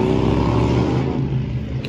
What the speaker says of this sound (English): you can hear the motorcycles in the background.